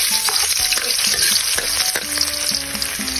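Garlic sizzles loudly in hot oil in a pan, a dense, continuous frying hiss with scattered stirring clinks, close and uninterrupted.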